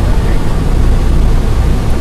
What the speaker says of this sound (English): I'm going to clutch it out of gear. I'm going to rev it up.